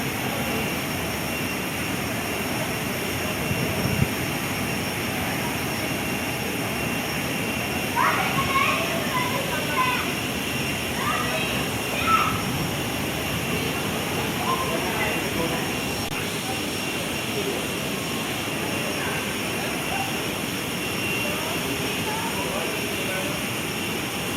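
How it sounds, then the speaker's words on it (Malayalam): A steady, far-off roar of an Air Canada airliner's jet engine at Curacao airport fills the air, with faint voices and scattered clatter in the background. "ഈ ഫ്ലൈറ്റ് എയർ കാനഡയുടെ ആ എൻജിൻ്റെ സൗണ്ടാണത്."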